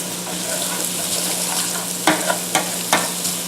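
Three slices of chopped bacon frying in olive oil sizzle steadily, with a low hum beneath and a few sharp spatters and utensil clicks near the end.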